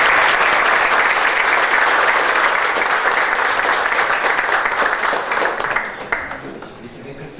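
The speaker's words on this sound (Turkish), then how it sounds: "Onları bir alkışlayın lütfen." A hall audience applauds a group of children with loud, dense, sustained clapping that fades toward the end.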